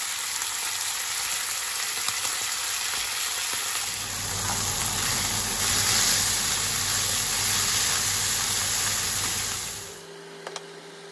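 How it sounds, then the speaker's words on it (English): Beef steaks sear in very hot oil, giving off a loud, continuous close sizzle and spatter that carries on for several seconds before cutting off abruptly near the end, with no speech. "you just want to sear these steaks really quick, like a minute and a half each side"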